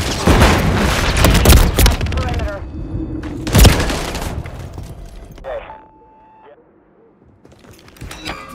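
A flash grenade goes off in Call of Duty MWIII during a Skidrow map match, with loud bursts and cracks, then a sharp blast and ringing fade, amid game gunfire and voice chatter.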